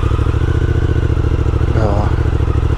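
Triumph Speed Twin motorcycle engine running close by, a steady throbbing idle with a brief rev swelling near the end, loud and continuous with no talk over it.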